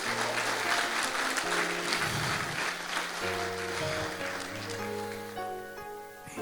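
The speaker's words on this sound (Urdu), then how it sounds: "زوردار تالیاں خدا کے لیے" A church congregation at a New Year service claps steadily and enthusiastically, dense sustained applause filling the room while held keyboard or organ chords play softly beneath.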